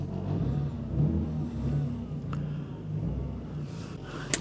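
An MK4 Toyota Supra with a turbo kit, its engine idling and revving at close range in a steady low rumble, with a faint click near the end.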